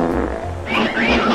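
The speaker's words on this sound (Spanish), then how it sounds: "¡Es la máquina de pedos!" A fart machine sets off a prank sound, a low rumbling burst followed by a second sputtering burst over about a second and a half, loud and close.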